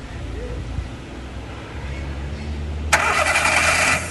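A car's starter motor cranks the engine during an alternator and electrical diagnosis, a low steady churning that catches and settles into idle, close by with no talk over it.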